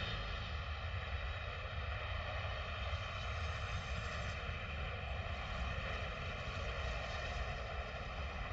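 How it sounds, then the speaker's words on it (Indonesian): Steady, continuous airplane engine drone as an aircraft comes in to land, a broad low rumble with even harmonic tones holding at constant loudness for the full duration, with no voices. "pesawat telah mendarat dengan aman"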